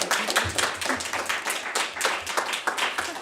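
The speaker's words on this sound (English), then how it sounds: "let's give all the presenters a round of applause" Audience applause for presenters at an Africana Studies symposium, a moderate crowd clapping steadily in a fairly quiet room, with individual claps audible through the wash.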